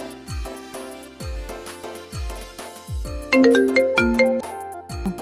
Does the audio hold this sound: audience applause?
no